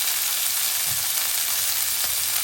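Mutton frying in a pot, giving a steady, dense hiss of sizzling oil, close and even throughout, with no voices.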